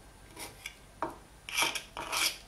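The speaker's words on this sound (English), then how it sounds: "I'm going to use my craft knife to gently go around the edge here" A craft knife blade scrapes around the sharp edge of a polymer clay faux abalone bowl in several short, close rasping strokes with brief pauses between them.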